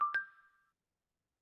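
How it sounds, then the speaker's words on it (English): A bank app's sent-message notification: two quick bright dings in rising succession, ringing briefly and fading out within a second, clean and isolated. "the notification for a sent message"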